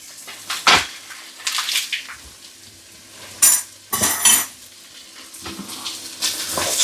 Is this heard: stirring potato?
yes